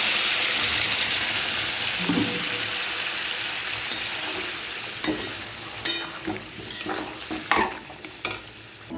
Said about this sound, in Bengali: আমি এবার গরম জলটা এর মধ্যে অ্যাড করে দিচ্ছি।